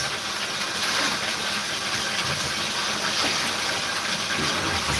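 Steady rushing water from a bath spray soaks a double-coated dog named Bootes, a constant close hiss that holds at an even level throughout, with no talk.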